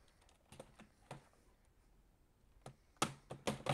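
Quick bursts of keystrokes on a computer keyboard, swapped in for a different one during a Dino browser game, come in scattered clusters with a pause in the middle and a louder flurry near the end, close and fairly faint.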